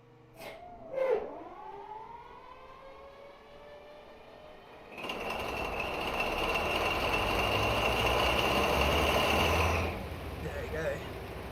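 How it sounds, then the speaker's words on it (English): A Class 253 HST's Valenta diesel engine heard from outside in Train Simulator: a falling whine and brief surge as it cranks, then a loud, steady roar with a high whistling tone that later drops back to idle. "let's get that engine start from the outside"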